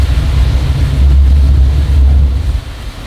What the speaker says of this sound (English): I hear Pierre starting the motor because there's a lot of sargassonweed and it gets caught in the props